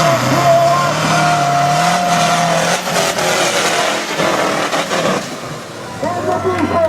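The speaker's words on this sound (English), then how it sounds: "Nitrous infused diesel motor" A nitrous-fed diesel drag racing vehicle at a Hill & Hole 2019 drag event accelerates with a loud, sustained engine roar whose pitch climbs. The sound is close, and voices seem to run beneath it.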